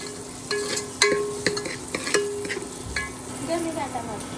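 Onions fry with a ground spice paste in a pan for a home-style misal pav, giving a steady sizzle under a string of regular spatula scrapes and light metallic taps, close and moderately loud, with no speech.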